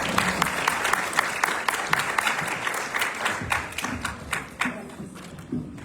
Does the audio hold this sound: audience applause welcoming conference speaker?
yes